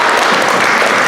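Dense audience applause at a community event in California fills the whole brief moment, loud and close with many hands clapping at once.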